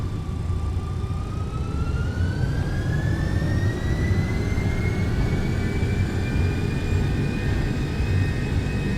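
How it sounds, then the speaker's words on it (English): MD-11 jet engines spool up toward takeoff thrust in the X-Plane flight simulator, a loud, continuous roar with a whining tone that rises slowly and steadily over about nine seconds. "Set takeoff thrust."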